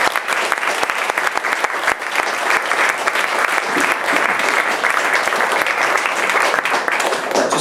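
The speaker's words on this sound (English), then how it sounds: "A round of applause for Barry Smith." A lecture audience claps loudly and continuously for the whole stretch, with many hands producing a dense, even roar of applause and no pause in it.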